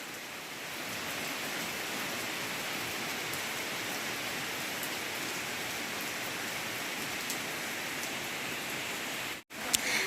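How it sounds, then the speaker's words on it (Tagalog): Steady, dense rain pours down close by, a continuous even hiss of drops striking surfaces with no breaks, ending with a brief dropout and a small knock near the end. "Sarap ng ulan guys."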